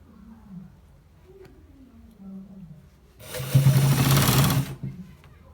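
A sewing machine stitching a designer shirt runs in one steady, loud burst of rapid whirring after a stretch of low, faint background sound, then stops abruptly.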